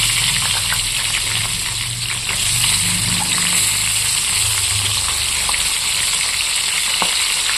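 Eggplant and potato frying in plenty of oil in a wok alongside rupchanda fish, a steady close dense sizzle with light stirring scrapes, loud and continuous with no talk.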